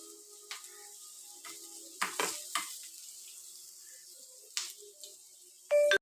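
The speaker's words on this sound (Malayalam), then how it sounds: "ചുവന്നുള്ളിയും പിന്നെ സവാളയും പച്ചമുളകും കറിവേപ്പിലയും എല്ലാം വെളുത്തുള്ളി എല്ലാം ഇട്ടാണ് മൂപ്പിച്ചിരിക്കുന്നത്" Shallots, onion, green chilli, curry leaves and garlic sautéing in a pan for a rajma payar stir-fry, a soft steady sizzle broken by a few brief stirring scrapes and a sharp clink near the end.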